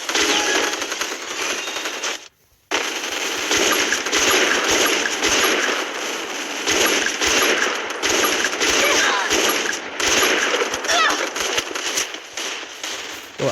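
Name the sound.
machine gun firing in a video game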